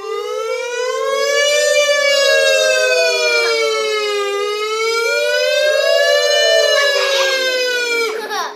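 Children imitate a fire truck siren with their voices, maybe through kazoos, a loud sustained wailing tone that rises and falls in slow sweeps.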